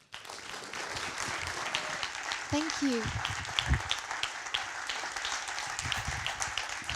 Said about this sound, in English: So an extra loud round of applause, please,